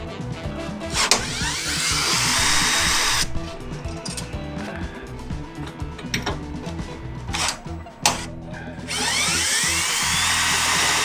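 A power drill drilling holes for U-bolts in a 5th-generation Toyota 4Runner whines loudly in long continuous bursts, pausing briefly between runs, with some clattering in between.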